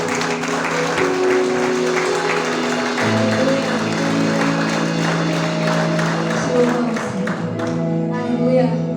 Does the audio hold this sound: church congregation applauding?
yes